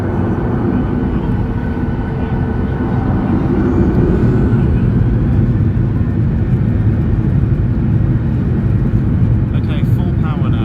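A Norwegian Boeing 737-800 rolls down the runway at Stockholm Arlanda at full takeoff power, a loud, steady engine roar and rumble that holds without a break throughout.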